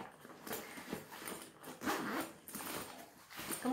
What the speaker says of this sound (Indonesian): Kemudian di sini ini ada resleting ya, di depannya sini.